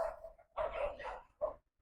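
A dog barks a few times close by, with short gruff bursts broken by a brief pause, fairly quiet and with no talk over it.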